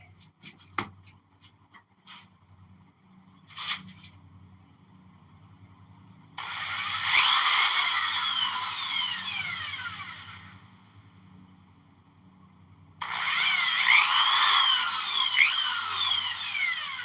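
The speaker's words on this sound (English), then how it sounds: "I'll make sure I drill this one out right." A power drill drilling out an end plug whines in two sustained bursts with rising and falling pitch, separated by a pause, after a few sharp knocks and clicks.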